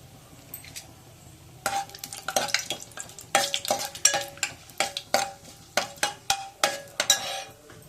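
Bay leaves, cloves, cinnamon, cardamom and cumin seeds fry in a pan for a gongura egg curry, a soft sizzle under a run of sharp spoon stirs and clinks against the pan.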